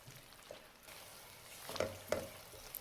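Yogurt masala fries for dum aloo in a pan, a quiet steady sizzle broken by a couple of soft stirring scrapes near the end.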